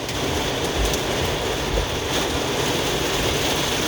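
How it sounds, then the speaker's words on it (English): Storm winds gusting around 70 mph in Castroville, Texas, make a loud, dense roar that stays steady through the whole clip, mixed with what could be driving rain, with no talk heard. "The wind's blowing it sideways!"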